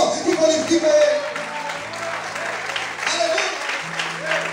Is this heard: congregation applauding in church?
yes